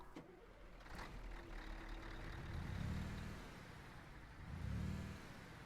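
Scania RJL truck engine in Euro Truck Simulator 2 cranking and starting, a brief click followed by low rumbling surges that rise and fall twice, fairly quiet with no talk.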